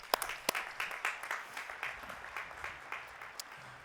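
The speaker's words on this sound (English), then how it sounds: "Please join me in a round of applause for the leadership of Central Washington University." Moderate applause from a commencement ceremony audience, a steady patter of many clapping hands with a few louder, nearer claps standing out, heard at a slight distance.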